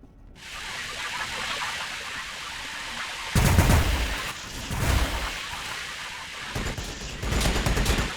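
Bolt pistol fire in the strategy game Warhammer 40,000: Battlesector, heard as several rattling bursts of rapid shots over a continuous noisy battle background, each burst loud and close, spaced about a second or more apart.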